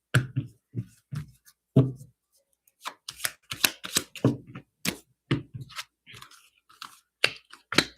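A deck of career and financial oracle cards is shuffled by hand in repeated bursts of soft riffling and slapping, close and fairly quiet, with a few gaps between shuffles.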